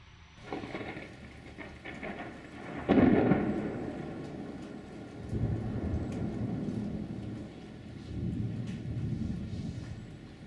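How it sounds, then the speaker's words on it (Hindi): A loud rumble of thunder bursts near the start and rolls on, followed by a sustained low roar of heavy rain. "बादलों की गड़गड़ाहट सुनाई दी और जोरों की बारिश होने लगी"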